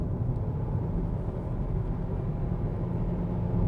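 A 2017 Hyundai Ioniq plug-in hybrid prototype pulls hard up a hill, heard as a steady low rumble of engine and road noise from inside the cabin, even and unbroken, with no talking.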